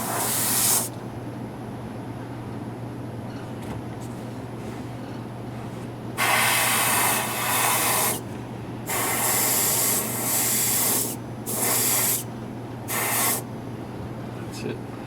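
An airbrush sprays cold glaze onto a chip repair on a Chinese porcelain bowl in several distinct hissing bursts of a second or two each, separated by pauses, over a low steady hum.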